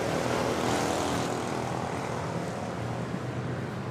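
A Cebu Pacific A320neo airliner on short final, back from Pagadian, approaching Manila Airport; a loud, steady broadband engine roar fills the whole moment without interruption.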